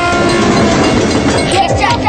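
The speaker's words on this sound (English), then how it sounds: "Trains are big, deceptively fast, and can't stop quickly." A train passes on railroad tracks, a loud and close continuous rumble with wheel clatter filling the whole stretch, while voices speak faintly beneath it.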